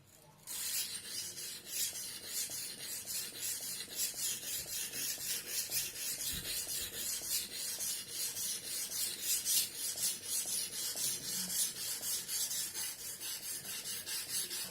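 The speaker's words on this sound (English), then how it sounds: "make sure and this part of the knife has a proper contact with the stone, and then makes sharpening happen." Kitchen knife rubbed back and forth on a Suehiro #200/#1000 splash-and-go combination whetstone, a steady close rasping scrape with rhythmic strokes throughout, no voices.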